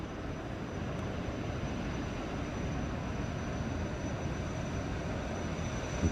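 Jetfoil passenger boat in Japan running on its jet engines at speed, a steady, dense, broadband roar with no break and no voices over it.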